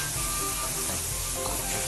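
Meat hitting a hot pan seasoned with salt and Chinese seasoning, giving a steady, loud, close sizzle that holds without a break.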